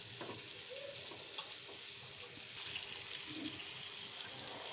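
Raw mango pieces with salt and jaggery being stirred in a pan, a soft continuous sizzle with faint scraping, steady and close, no talking.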